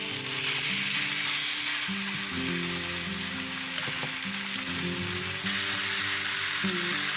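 Portobello mushrooms and baby asparagus sizzle steadily in a hot pan, a continuous dense crackle with a few faint stirring scrapes, close and alone with no talking.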